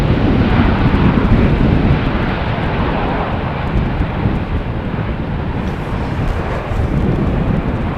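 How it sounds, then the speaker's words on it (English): Jet airliners arriving on runway 18R at Amsterdam Schiphol Airport in crosswind and cloudy weather make a loud, continuous roar, with gusty wind buffeting the microphone throughout and no talking. "we are seeing another 3 or 4 planes making their way over here"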